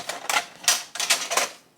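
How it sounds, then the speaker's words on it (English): Regular inkjet printer pulling in waterslide decal paper, a quick series of about five clattering mechanical bursts in under two seconds, close and fairly quiet, with no talk. "I'm using my regular inkjet printer."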